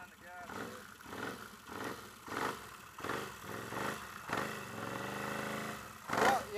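An off-road vehicle engine on a snowy trail at Maclean Creek, revved on the throttle in repeated rising pulses, fairly close and rough, with a person talking over it.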